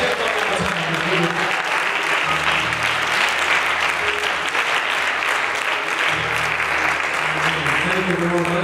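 A church congregation claps in loud, sustained applause throughout, dense and close, with voices and an organ-like tone underneath.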